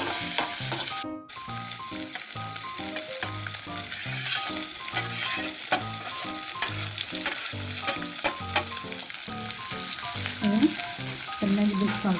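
Tomatoes, green chillies and ginger garlic paste frying in a pan for pav bhaji, a continuous loud sizzle broken by repeated scraping strokes of stirring.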